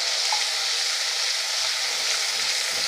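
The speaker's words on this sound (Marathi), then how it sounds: "आता तेल सुटेपर्यंत आपल्याला हे परतून घ्यायचं आहे" Ground masala paste sautéing in oil for a simple potato curry, a steady close broadband sizzle running unbroken throughout with no talk.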